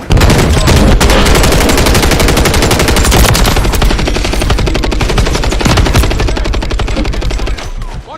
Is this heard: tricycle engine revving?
no